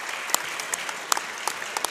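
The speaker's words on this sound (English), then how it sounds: "Let's have one more round of applause for our 2 inductees this evening." Audience applause at a high school basketball event: a crowd claps in a scattered patter with occasional sharper individual claps, steady and moderately loud, with no voices standing out.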